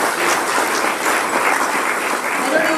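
Sustained applause from a seated audience at a county community coffee meeting, an even wash of many hands clapping close by, with no talk over it.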